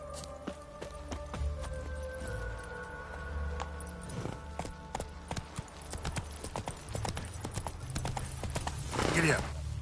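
Horse hooves clip-clopping at a trot in The Witcher 3 video game, a rapid, fairly steady patter of hoofbeats throughout, with game background sounds and a brief rise in noise near the end.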